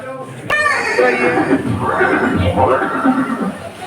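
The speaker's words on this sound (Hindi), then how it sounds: "ये दृश्य महाराणा प्रताप और सुविख्यात स्वामी भक्ति घोड़े चेतक के अंतिम मिलन का है।" A war horse from the era of Maharana Pratap and the Battle of Haldighati gives a sharp whinny near the start, then a voice talks over a busy, steady background.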